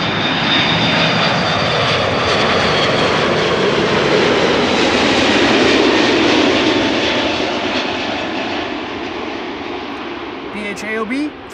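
Loud, close roar of Airbus A330 airliner jet engines at Amsterdam Schiphol, sustained broadband rumble and whine that swells mid-way then slowly fades, with a brief voice at the end.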